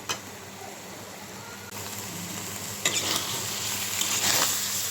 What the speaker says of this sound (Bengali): জলটা শুকিয়ে গেলেই ভাজা ভাজা হয়ে যাবে মাছটা